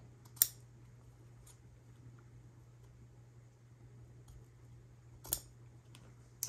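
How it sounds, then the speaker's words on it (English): A few sharp, isolated snips of sharp scissors trimming paper card stock, spaced apart against a quiet background hum. "I think I'll actually trim it just a little bit more. Use my sharper scissors."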